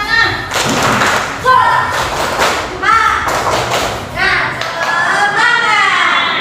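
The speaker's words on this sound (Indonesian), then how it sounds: "Tepuk semangat dulu untuk kita semua." A group performs a rhythmic spirit clap (tepuk semangat), with loud, close bursts of clapping in a patterned beat mixed with chanting voices.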